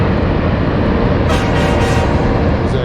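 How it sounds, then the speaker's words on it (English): A train passes near a fishing spot as a loud, continuous low rumble and rolling clatter of rail cars. A brief brighter metallic whine comes through partway into the passage, with no talk heard over it. "Oh, I see a train."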